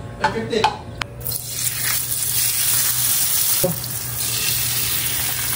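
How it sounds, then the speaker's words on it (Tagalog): Kangkong (water spinach) leaves drop into hot oil and set off a loud, steady sizzle of deep-frying that hisses on without a break. A few clinks and light stirring knocks come at the start and partway through. "Ipiprito na po natin itong dahon ng kangkong."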